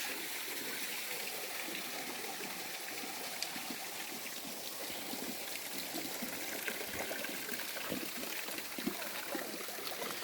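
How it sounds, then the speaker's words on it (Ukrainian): A small mountain stream near the village of Vyshka flows steadily, a constant broadband rush of water with light trickling and splashing textures, close and unbroken, with no voices. "А цей струмочок це так якби гірський."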